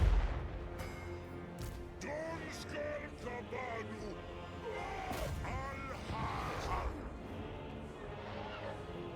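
An artillery unit fires in a strategy video game battle, booming shots and crashing impacts scattered across the scene beneath a steady mechanical din, with someone talking over it.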